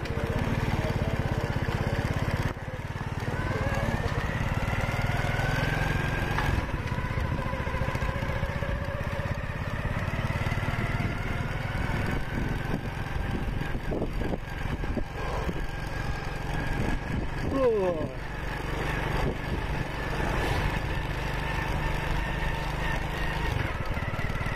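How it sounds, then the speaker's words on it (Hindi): A motorcycle engine starting and settling into idle nearby, a steady low chugging drone with a brief break early on and slight shifts in pitch. "ये देखो पापा बाइक कर रहे हैं स्टार्ट।"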